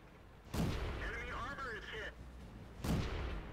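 Tanks blowing up in the World of Tanks video game: two loud, booming blasts about two seconds apart, with someone talking between them.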